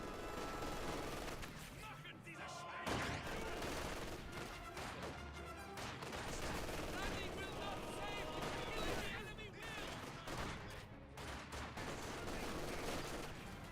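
MG42 machine gun fire in the World War II strategy game Company of Heroes 2: dense, continuous battle noise with bursts and explosions layered under a commentator's steady talk.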